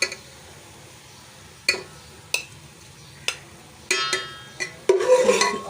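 A metal spoon scoops golden fried onions out of a cooking pot while biryani is being made, giving several sharp scraping clinks at irregular intervals over a faint sizzle, with a denser clatter at the end.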